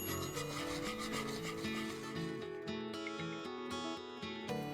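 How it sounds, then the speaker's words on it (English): A spoon or whisk rubs and scrapes steadily through thickening custard for milk tart cooking in a pot, a continuous close rasping that runs the whole time, with a tonal hum or music underneath. "So we have to keep stirring it really, really well."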